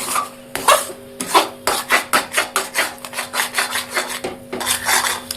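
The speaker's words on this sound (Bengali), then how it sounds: "এবার আমরা পুরোটাকে ভালো করে নাড়তে থাকবো।" A spoon scrapes and stirs green pea kachori filling in a pan over a low flame, a steady run of about a dozen rhythmic rasping strokes against the metal, close and clear with no talking.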